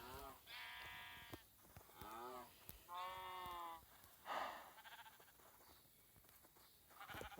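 Sheep in a farm video game give several loud, wavering bleats in a row, each with a clear rising and falling pitch, and short gaps between the calls.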